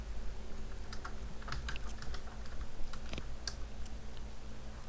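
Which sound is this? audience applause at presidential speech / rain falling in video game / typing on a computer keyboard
typing on a computer keyboard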